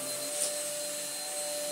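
Cheaper cordless vacuum cleaner running with side brushes, a steady, fairly quiet whine with a constant tone, close by and uninterrupted, no one talking.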